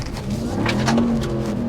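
A 2021 Ram 1500 TRX pickup truck accelerating hard around a corner, its engine droning low and steady with a slight rising pitch, heard from close by, with no talk.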